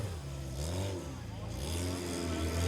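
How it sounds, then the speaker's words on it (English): A 4-cylinder CowperTruck off-road vehicle drives an extreme 4x4 challenge course, its engine revving and rising in pitch at moderate distance under a commentator's steady talk. "Safety through 3 and 4 goes Nathan Fogden in the 4-cylinder powered CowperTruck"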